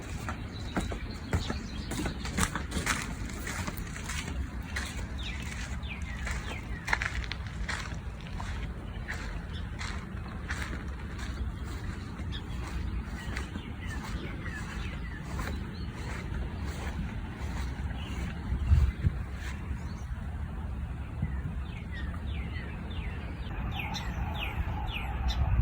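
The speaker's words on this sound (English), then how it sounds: "I love listening to all the birds that we have." Birds singing outdoors around a home in a quiet early-morning setting, scattered calls and a few clucking fowl sounds over a soft continuous background, moderately faint and without talk.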